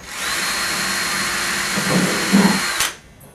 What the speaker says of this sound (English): So you're going to take your pipe and you're going to drill a hole about here